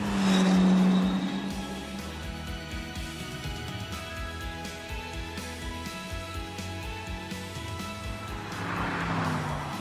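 A BMW V8 in The Grand Tour Game roars loudly at first, then drones steadily through most of the stretch and swells again near the end, as if the car passes close by.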